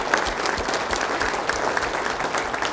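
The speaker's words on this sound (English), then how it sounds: "if we could just give a round of applause for that leadership team" A staff all-hands meeting audience claps in steady, dense applause throughout, loud and continuous with a crowd filling the room.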